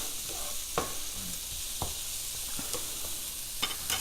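Peppers and onions with garlic, salt, pepper and Italian seasoning sizzle steadily in olive oil in a pan, with a continuous close hiss broken by several sharp stirring clacks and scrapes.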